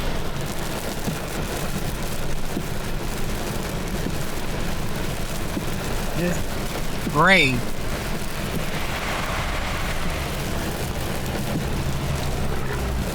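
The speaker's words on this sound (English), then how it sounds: "So far, it's rain and small hail and lightning here and there." Steady rain with small hail pattering through a thunderstorm on the outskirts of the cell, a broad continuous wash of noise; a person speaks briefly midway.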